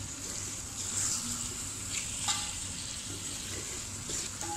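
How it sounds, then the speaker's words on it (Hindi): Mutton pieces stirred through a spice masala in a pot for pulao, a low steady frying hiss with occasional scraping and clinks of the spoon, fairly quiet and close. "अब हम बोटियां मसाले में डाल देते हैं, अच्छी तरह से मिक्स कर लेते हैं।"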